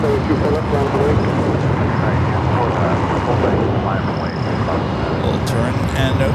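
A distant airliner takes off from a runway at LAX, a loud broad roar under steady wind noise, with a person talking over it.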